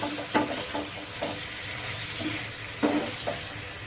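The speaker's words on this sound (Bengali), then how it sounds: "আমি 2 মিনিট ভালোভাবে নাড়িয়ে নেব।" A momo filling seasoned with vinegar gets stirred in a pan, making a soft continuous sizzle with occasional scraping strokes of the spoon and a couple of louder clanks.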